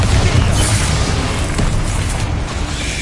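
A booming explosion from the Bombarda spell in a video game, a loud, dense rumble that lingers and slowly fades over a few seconds.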